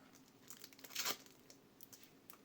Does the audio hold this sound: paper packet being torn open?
yes